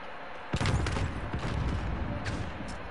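Video game gunfire in a 2v2 tournament match: a burst of close shots at about half a second, followed by a couple of further sharp reports and rattling, moderately loud with no voices.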